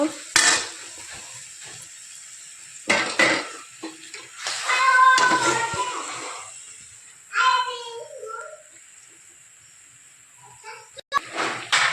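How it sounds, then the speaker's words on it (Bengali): Spices and prawns sauté in a pan with vegetables, giving soft sizzling bursts and the clink of a spoon stirring against metal. Someone talks between the cooking noises, and a voice can be heard. "লবণ, হলুদ, লঙ্কা সমস্ত কিছু ছেড়ে আমি কষানো করছি"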